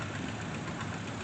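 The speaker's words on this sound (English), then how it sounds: "Sounds like a 2-cylinder WD." A 1950 two-cylinder Allis-Chalmers WD tractor engine runs in a steam and gas association parade, a steady low throbbing chug heard briefly at moderate level.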